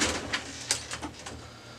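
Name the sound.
opening top cover of Brother HL-3040 printer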